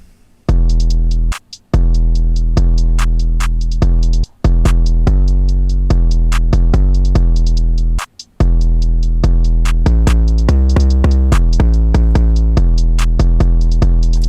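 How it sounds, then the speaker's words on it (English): A glo-style hip-hop beat with deep booming 808 bass notes under punchy drum hits and hi-hats, steady rhythm with a couple of brief drop-outs, no vocals. "All together with the drums and the 808 on the verse sounds like this."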